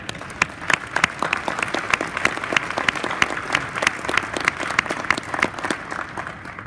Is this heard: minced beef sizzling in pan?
no